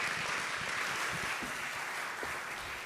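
Sustained audience applause at a philanthropy conference panel, a dense steady wash of clapping at moderate volume with no talk over it.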